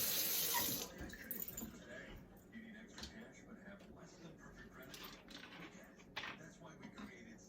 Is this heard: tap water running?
yes